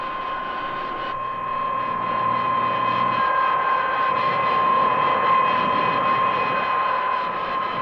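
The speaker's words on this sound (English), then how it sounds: "When the jet comes to the city," A jet engine roars loud and steady, a sustained whine with a strong tonal hum that swells slightly and holds throughout.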